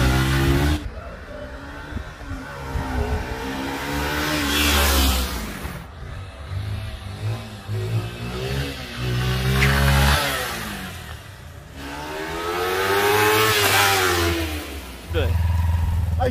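Motorcycle engine revving hard through a wheelie, rising and falling in long surges across the whole stretch with brief drops between, loud and close, while people shout and talk excitedly over it.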